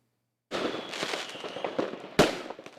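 A burst of crackling firecrackers pops and sizzles continuously at a New Year's Eve celebration in Mauritius, capped by one sharper, louder bang near the end.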